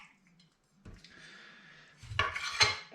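Knife slicing raw pigeon breasts on a board, a quiet pause then soft scraping followed by a few sharp taps and clacks of the blade, close and fairly faint.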